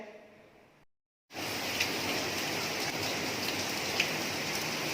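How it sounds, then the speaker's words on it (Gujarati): Heavy rain pours down outdoors as a steady, loud wash of falling drops, beginning abruptly after a brief quiet gap and continuing unbroken with occasional sharper drop impacts. "બહાર ફૂલ વરસાદ સ્ટાર્ટ થઈ ગયો છે"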